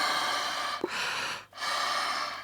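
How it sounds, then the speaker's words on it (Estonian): Forceful belly breaths during a diaphragm breathing exercise: two long, loud, close-up blowing exhalations, each cut by a brief sharp inhale. "Päris mitu korda pean puhuma ja väga tugevalt hoian kinni sellest, et ma hingan just kõhuga ja diafragmaga."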